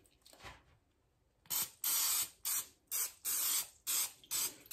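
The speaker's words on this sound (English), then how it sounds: "I'm gonna go ahead and spray it with some canola oil" Short bursts of canola oil aerosol spray onto chicken wings, one then a series of about six quick hissing spritzes in a rough rhythm, close and loud.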